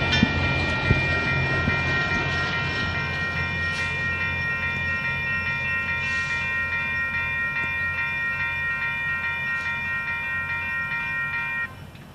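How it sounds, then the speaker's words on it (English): Amtrak Coast Starlight number 14, a passenger train headed to Seattle, rolls past in West Sacramento with a steady, loud rumble and a sustained multi-tone horn chord held for most of the pass, cutting off near the end. "Amtrak Coast Starlight number 14 headed to Seattle."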